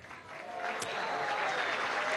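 Audience applause at the Premio Nacional de Periodismo 2015 award ceremony, greeting radio journalists receiving a special mention; steady, dense clapping from a hall crowd with a faint voice mixed in.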